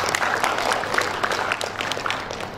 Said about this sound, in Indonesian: Tepuk tangan buat Pak Nario